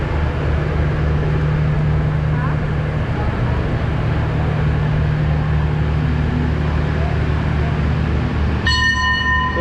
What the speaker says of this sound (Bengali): তো এই হচ্ছে আমার ট্রেন।